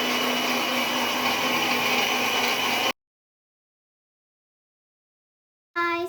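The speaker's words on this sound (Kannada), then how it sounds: "ಈಗ ಸೊ ಮಿಕ್ಸಿಗೆ ಹಾಕ್ಕೊಳೋಣ ಬನ್ನಿ" A kitchen mixer grinder whirs loudly and steadily for about three seconds, then cuts off into silence before a brief burst of running resumes at the end.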